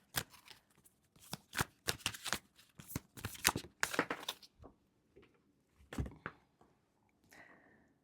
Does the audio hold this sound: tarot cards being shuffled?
yes